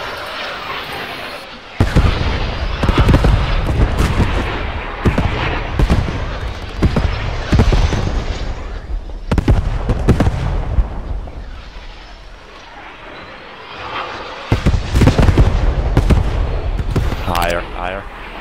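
A Panzerwerfer 42 rocket barrage in the World War II shooter Squad 44, loud rolling volleys of launches and blasts in bursts with short gaps between, voices talking over the din.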